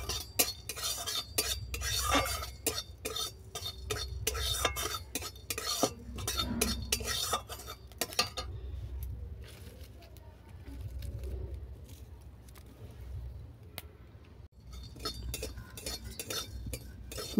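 Five-spice seeds dry roast in a pan and are stirred with a utensil, making close scraping and light rattling for the first half. Quieter, sparser stirring sounds follow.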